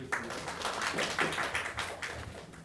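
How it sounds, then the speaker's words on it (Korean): Applause greets the next speaker at a seminar on a big-data digital therapeutics platform. It is a steady, moderately loud crowd clap with dense overlapping hand claps that run evenly for a few seconds and show no speech. "우리 큰 박수로 우리 모시겠습니다"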